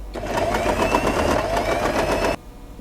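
A sewing machine runs steadily, stitching fabric for a two-tone scrunchie with a rapid even whir for over two seconds before cutting off abruptly into near silence.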